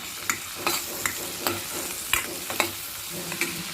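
Onions and chili powder are stir-fried in a pan for garlic kulambu under a constant soft sizzle, broken by sharp, regular scraping clicks of a spoon stirring about every half second.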